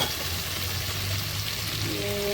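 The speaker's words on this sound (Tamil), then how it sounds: "காயெல்லாம் நல்லா வதங்கிடுச்சு." Vegetables sautéing in a pan for a village-style prawn curry, a steady, close, hissing sizzle that continues evenly throughout with no talk.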